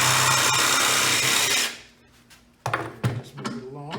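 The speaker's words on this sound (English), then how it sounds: "Then we're just going to take a jigsaw. And we're just going to cut." A jigsaw cuts steadily along marked lines on a sheet, buzzing loud and close for about a second and a half, then stops; a few clunks and knocks follow as the tool is moved.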